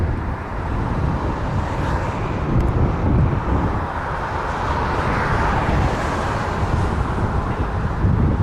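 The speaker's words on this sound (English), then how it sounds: "Dreamliner from Tokyo." An Air Canada Boeing 787 Dreamliner arriving from Tokyo passes as a broad, steady jet roar at an airport. It is mixed with wind buffeting on the microphone and holds at an even loudness throughout.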